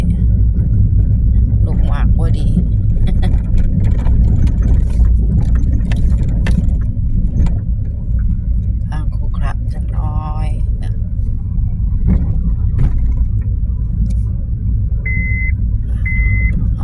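A car drives along a road, its engine and tyres making a constant low rumble close by, with scattered knocks and a couple of short electronic beeps near the end, and no clear talking.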